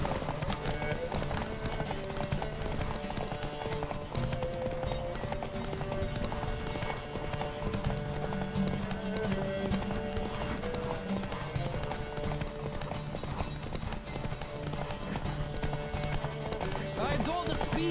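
Horse hooves gallop steadily throughout a Witcher 3 race, a continuous rapid clip-clop under game music and other noise, with voices talking at times.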